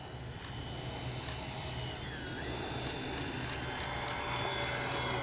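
The whining turbine of an X-Fly 40mm EDF F-15 model jet drones steadily on a slow pass, its pitch sliding as it passes, swelling slightly louder toward the end.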